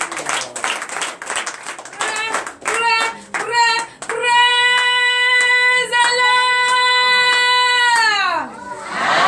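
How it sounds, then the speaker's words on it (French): A church congregation at a Sunday service claps in acclamation, with dense, uneven handclaps for the first few seconds under voices, then a loud sustained high vocal cry takes over. "Donnez l'acclamation à l'Éternel."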